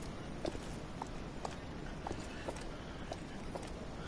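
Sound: enemy knights' horse-like footsteps in Dark Souls III video game

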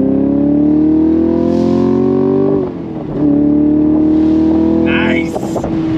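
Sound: 2023 Chevrolet Camaro SS accelerating in second gear

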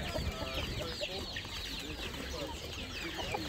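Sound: desi chickens clucking at a market

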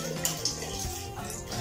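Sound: water poured into pot for boiling bulalo

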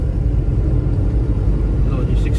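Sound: car engine while driving in fifth gear

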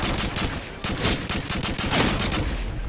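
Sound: FAL rifle gunfire in the video game Modern Warfare 2

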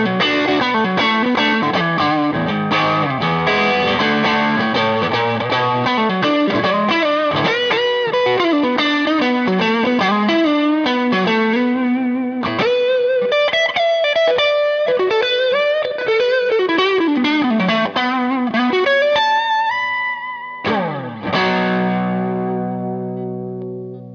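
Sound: distorted electric guitar tones from a Fender Masterbuilt 1960s Stratocaster

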